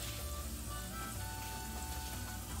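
Garlic frying golden in hot oil gives a steady, dense sizzle with no break, close and even throughout, and no one talks over it.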